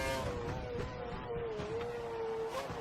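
A Ferrari Formula 1 car's engine in F1 2012 whines loudly and steadily at close range, its pitch wavering slightly with small shifts in revs throughout.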